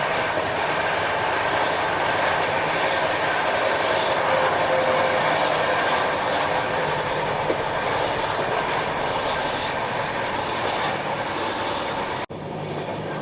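Rajdhani Express rolling alongside a freight train on parallel tracks, a steady loud broadband roar of wheels and rail noise throughout, with a sharp cut and slight drop near the end.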